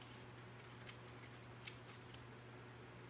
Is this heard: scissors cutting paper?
yes